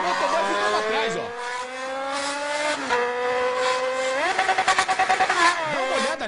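A motorcycle races at high speed between cars in heavy Brazilian traffic, its engine whining loudly and climbing through repeated gear shifts and revs, with a rapid burbling stretch near the end.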